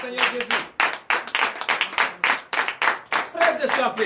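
A church congregation clapping in rhythmic acclamation during a night deliverance service, steady loud hand claps in a fast beat with voices calling out over them.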